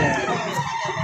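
Chickens at a poultry market in Padre Garcia, Batangas, a dense, steady crowd noise of clucking and squawking fowl close by, with no clear crow standing out.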